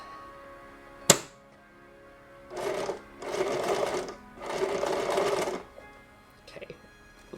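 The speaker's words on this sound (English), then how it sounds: "And we're going to sew carefully over these things." Sewing machine stitching over buttons: after a sharp click, three separate short bursts of rapid mechanical stitching, each lasting about a second, close and clear, followed by faint handling clicks.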